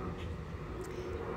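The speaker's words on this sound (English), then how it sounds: "It's planes flying around here," Airplanes fly overhead in a steady, broad rumbling drone that fills the whole moment, loud and continuous, heard outdoors.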